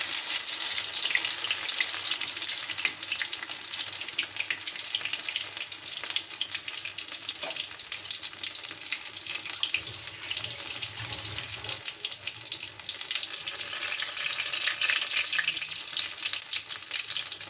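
Steady, loud sizzling of stuffed ridge gourd frying in a pan over medium heat, a dense crackling hiss that continues without a break.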